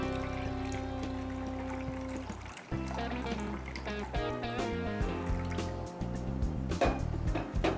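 Water is poured steadily into a pot of spinach soup set to boil, a close, continuous gurgling pour with a shifting pitch as the pot fills.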